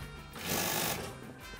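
A commercial sewing machine hemming denim jeans runs in a short, steady whirring burst that swells in the middle and then eases.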